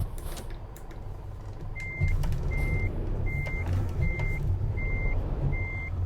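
A truck backs up in a Euro Truck Simulator 2 depot, its reversing alarm beeping six times in an even rhythm over a steady low engine rumble.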